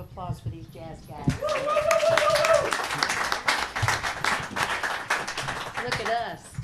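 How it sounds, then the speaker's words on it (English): Audience applause and claps for a jazz band at a Sunday church celebration, a dense steady patter that rises and holds for several seconds, with voices talking and cheering over it. "Let's have another round of applause for these jazz guys."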